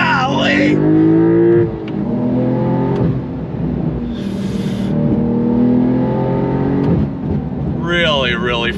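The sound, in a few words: 2022 Porsche 911 GTS accelerating full throttle from a dead stop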